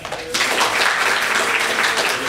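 A live audience at a video game music podcast panel breaks into a burst of applause and cheering, dense and fairly loud, rising quickly after a brief quieter moment and holding steady.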